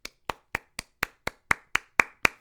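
A single person claps alone, about ten sharp, evenly spaced claps close to the microphone with silence between them, growing slightly louder toward the end.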